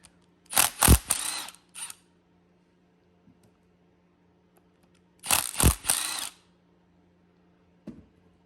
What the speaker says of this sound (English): these are all 10mm bolts. These are to the cam lock plate, so let's go ahead and take those off real quick.